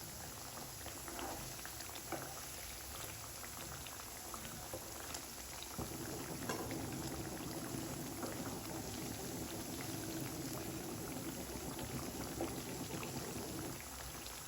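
Wheat biscuits deep-frying in oil over a low flame give a steady, continuous bubbling sizzle that holds at an even level throughout, thickening slightly partway through, with no voices.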